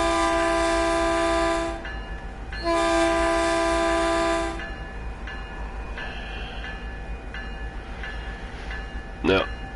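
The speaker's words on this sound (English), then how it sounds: "If y'all want to hear the horn." Locomotive horn in the game Train Sim World 2, sounding two long loud blasts followed by quieter rumbling rail running noise and a short squeal near the end.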